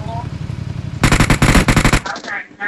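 Loud rapid bursts of automatic gunfire in a shooter video game, a dense rattling volley lasting about a second followed by a few trailing shots, with a voice talking just before.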